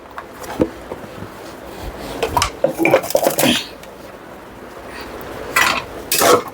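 A spoon clatters and scrapes against a pot while mutton curry is stirred with masala powder in a cloud kitchen, in uneven bursts of metallic knocks with a louder flurry near the end.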